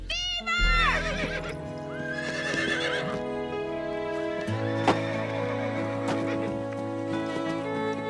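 Horses whinny loudly at the start, followed by clopping hooves and more neighing, mixed with other animal bleats in the background.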